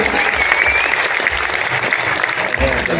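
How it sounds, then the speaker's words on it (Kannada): A hall audience at a folk award ceremony gives sustained, dense applause for Dr. Ratnamma, a steady clapping wash lasting throughout at fairly close range with no talk over it. "ಡಾಕ್ಟರ್ ರತ್ನಮ್ಮರಿಗೆ ಚಪ್ಪಾಳೆ"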